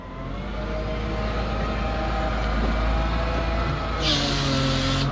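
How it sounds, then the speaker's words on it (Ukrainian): A tractor arriving, its engine a loud steady close drone that holds at a constant level with a brief higher burst near the end, with no talking. "Трактор приїхав"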